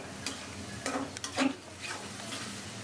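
Spice paste and fish oil being stir-fried in a pan give a few quiet, scattered scraping strokes over a faint sizzle, with sharper bursts near the middle.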